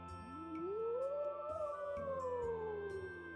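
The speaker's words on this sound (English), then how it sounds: "There's that howl again. It sounds like it's coming from the Fountain Plaza." A long rising-then-falling animal howl from the video game Tales of Symphonia 2, a single drawn-out wavering call over a steady ambient game background.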